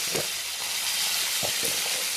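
Diced potatoes with a little salt and turmeric fry in hot oil, giving a loud, continuous hissing sizzle with a few soft knocks of stirring underneath.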